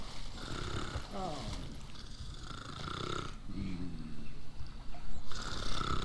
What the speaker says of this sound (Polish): no ktoś tu chrapie